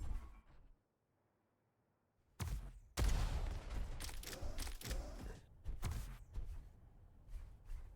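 Grenade launches and explosions in the arena shooter Diabotical, heard as sharp bursts of mechanical firing and blasts after a brief silence, loud and close, with rapid bursts clustering toward the end.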